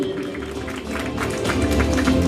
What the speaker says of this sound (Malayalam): എല്ലാവരും ചേർന്ന് ഒരു നല്ലൊരു കൈയടി.